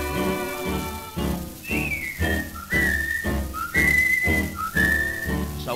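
A melodic whistled tune with sustained notes over a rhythmic dance-band backing, clear and close.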